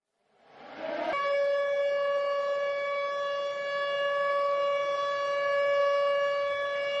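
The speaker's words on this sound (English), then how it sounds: "I think it might just be the siren." A loud air raid siren rises from silence into a long, steady wailing tone that holds for several seconds.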